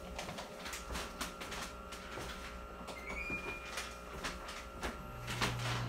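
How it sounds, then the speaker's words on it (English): A 1,500-watt air conditioner running off a Lion Energy Safari UT 12V lithium battery in an off-grid solar showroom: scattered clicks and taps, then a low, steady compressor hum kicks in near the end and holds. "Here goes the air conditioning."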